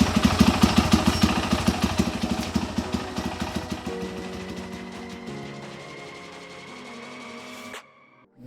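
A small Predator 212 engine (ZS212) chugs rapidly and rhythmically, its pulsing slowing and fading over several seconds before cutting out.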